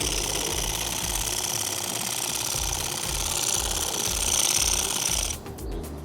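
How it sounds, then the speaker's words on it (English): A Fanttik Z10 Pro cordless hedge trimmer runs on high, a loud, close, steady buzzing chatter of reciprocating blades that drops off abruptly near the end. "that's a look at the Fanttik Z10 Pro Power Hedge Trimmer"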